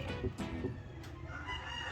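Chickens in a coop cluck and murmur close by, with a few short squawks rising over a steady background of low clucking.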